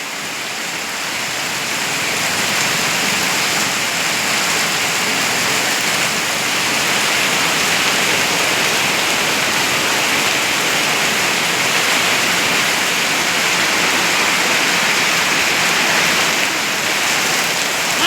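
Heavy rain pours down steadily in a dense, unbroken roar that holds at the same strong level throughout, with no voices or other sounds breaking through.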